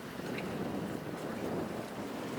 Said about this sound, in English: We got flapping going on. A little bit of flapping.